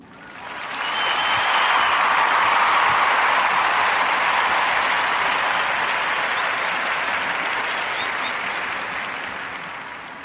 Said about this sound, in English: So clap it up for King Randall.